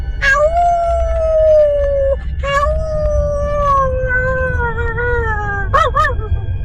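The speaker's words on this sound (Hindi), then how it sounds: "तभी घर के बाहर कुत्ते भौंकने लगते हैं।" Dogs howl and whine in long, drawn-out wavering cries, several overlapping calls close by, with a low rumble underneath.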